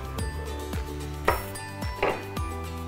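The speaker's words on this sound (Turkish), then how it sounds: "Biraz daha karıştıracağım." A metal spoon stirs salt into water in a glass, giving about six bright ringing clinks against the glass at an uneven, repeated stirring rhythm, close and clear.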